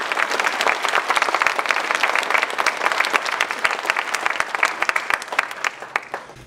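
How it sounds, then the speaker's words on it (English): Graduates' families and guests at a secondary school graduation ceremony applaud after the valedictory speech, a loud, dense and sustained burst of many hands clapping that thins slightly toward the end. "Big round of applause for those guys."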